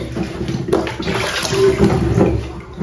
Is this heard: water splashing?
yes